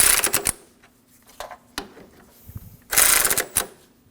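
A ratchet tightens the two 10mm bolts at the top of a driver's side A/C condenser cooling fan on a 2016-2022 Honda, giving two close bursts of quick clicking with quieter tapping between them.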